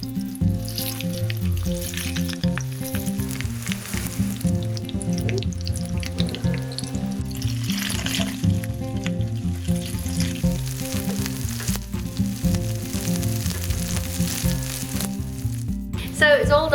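Breadcrumbs frying in hot oil for fish cakes, a loud, steady close sizzle with crackling and some stirring throughout, without a break.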